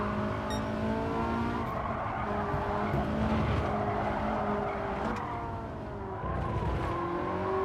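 In Gran Turismo 7, a car slides with oversteer, its engine droning loudly as tires squeal and scrub in wavering tones through the slide, with no voices over it.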